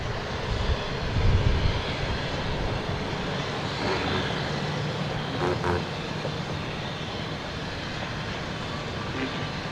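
A Southwest Airlines jet at an airport, its engine giving a steady broad roar that stays loud and even throughout, with a brief swell near the start.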